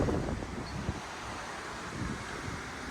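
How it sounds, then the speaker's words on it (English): Strong wind in Alaska buffets the microphone in a steady, heavy rumble with a few louder gusts, no voices present. "We're gonna get them inside because it's so dang windy."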